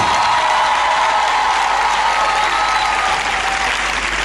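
Church congregation at a year-end worship program applauding and cheering, a loud, continuous roar of clapping with shouts and whoops blended in, sustained and dense from start to finish.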